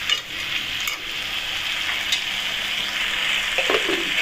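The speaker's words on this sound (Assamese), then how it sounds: "ঔটেঙাকেইটাকো অলপ দেৰি ভাজি ল'ম।" Outenga (elephant apple) pieces fry in hot oil with a steady, close sizzle throughout, punctuated by a few sharper crackles and a soft stir near the end.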